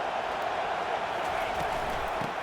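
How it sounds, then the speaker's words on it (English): A stadium crowd in the NCAA 25 college football video game keeps up a dense, steady roar of cheering throughout, with faint commentary-like voices mixed underneath. "This crowd bringing the energy and noise early."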